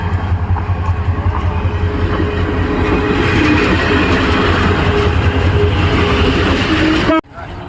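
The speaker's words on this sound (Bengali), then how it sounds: "তার মধ্যে চলে আসলো ট্রেন" A train rolls past a rain-soaked cattle market, a loud, steady rumble of wagons and rail noise holding for about seven seconds before cutting off abruptly near the end.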